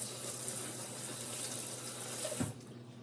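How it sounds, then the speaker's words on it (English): A kitchen tap runs steadily while hands are rinsed under it, a close, moderately quiet stream of water that shifts briefly as the hands move, then cuts off just before the end. "All right, now rinsing our hands."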